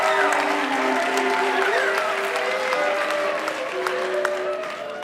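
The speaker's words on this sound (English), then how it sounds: "big round of applause for Jess Nurse" Steady applause from a theater audience at a live Moth storytelling show in Los Angeles, dense and sustained throughout, with scattered vocal cheers rising above the clapping.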